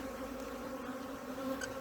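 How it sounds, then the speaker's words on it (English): Honey bees hum loudly around an opened hive as a brood frame is lifted out in springtime, a dense, steady buzzing swarm close to the listener with no talk. "I'll shake the bees off it."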